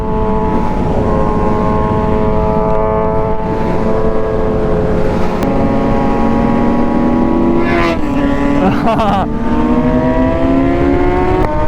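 A Honda CBR 1000 motorcycle engine at a street bike meet, loud and close, holding a steady high drone before climbing in pitch through a rising rev near the end.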